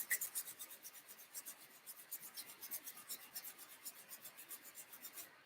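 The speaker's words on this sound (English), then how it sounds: "Rub your hands together, building some heat" Oiled hands rub briskly together in a quick, even back-and-forth rhythm, producing a soft, close, dry swishing that repeats steadily throughout with no talking.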